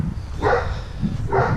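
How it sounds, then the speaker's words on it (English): A large dog barks next door, two short bursts heard at a distance over outdoor background noise in a small park at the end of a residential street. "There's a giant dog barking next door."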